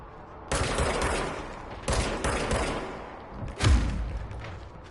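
Automatic gunfire from the video game Control crackles in three sustained bursts, dense and rattling with a heavier thump on the last one.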